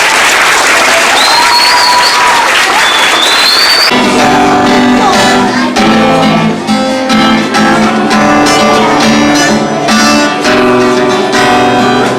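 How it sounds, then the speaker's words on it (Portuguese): Audience applause at a school poetry evening, a dense wash of clapping for about four seconds that then gives way to music with singing. "Uma salva de palmas a todos."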